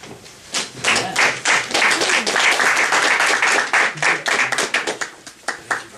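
An audience gives a round of applause for Roy at a meeting, dense clapping from many hands swelling quickly and holding steady for several seconds before thinning into scattered claps.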